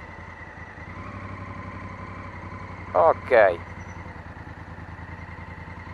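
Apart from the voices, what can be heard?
motorcycle engine idling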